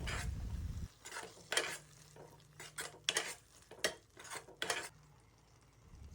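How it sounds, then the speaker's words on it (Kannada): Masala mixed with ground tomato is stirred in a pan while making avarekalu bath, giving a string of close scraping and clinking strokes with light sizzle, starting with a brief louder burst, then irregular and quieter, with no talk. "ಮಸಾಲೆನ ಚೆನ್ನಾಗಿ ಮಿಕ್ಸ್ ಮಾಡ್ಕೋತಾ ಇದ್ದೀನಿ"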